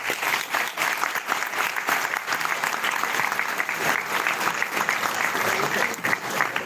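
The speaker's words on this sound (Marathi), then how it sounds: "जोरदार टाळ्या होऊन जाऊ दे" An audience at SNDT University breaks into sustained, dense applause after Nitin Gadkari's speech, with many hands clapping steadily and loudly for several seconds.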